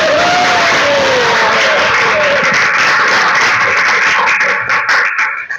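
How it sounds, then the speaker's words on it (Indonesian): A class of schoolchildren clapping together in a classroom at the teacher's call, dense loud applause with crowd noise, steady throughout and breaking into a few separate claps at the end. "Ayo kita tepuk tangan"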